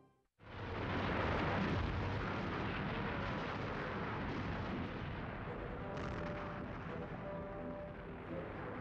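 A massed heavy-gun artillery barrage opens the Red Army offensive east of the German capital, a sudden onset into a dense, continuous roaring rumble of many guns, sustained and distant-sounding with no talk.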